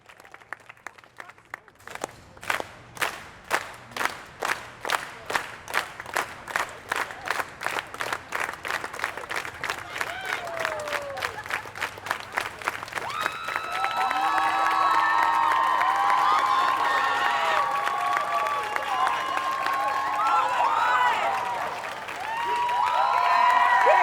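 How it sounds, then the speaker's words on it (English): A New York street-performance crowd claps along in a steady rhythm that speeds up, then breaks into loud cheering and whooping with excited voices and shouts layered over sustained applause. "Everyone clap with me."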